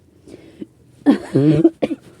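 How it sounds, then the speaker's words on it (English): A few short coughs, close and fairly loud, with a harsh throaty burst in the middle followed by two quick smaller coughs. "got a bit of a cough"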